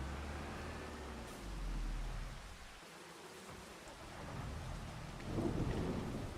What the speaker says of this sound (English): Oh, there's the rain.